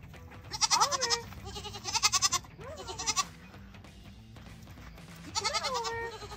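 Goats on a farm at night bleat in three separate bouts, wavering calls at moderate distance over a faint, steady background. No one speaks.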